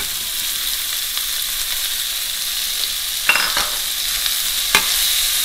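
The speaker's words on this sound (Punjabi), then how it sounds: "ਲਸਣ, ਅਦਰਕ ਅਤੇ ਥੋੜ੍ਹਾ ਜਿਹਾ ਜੀਰਾ ਪਾ ਤਾ, ਨਾਲ ਹੀ ਪਿਆਜ਼।" Garlic, ginger, a little cumin and onion fry in a pan for aloo bhindi, giving a loud, steady sizzle throughout with a couple of brief stirring scrapes, and no one talking.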